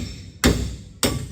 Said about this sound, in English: Take a hammer and a chisel, make sure.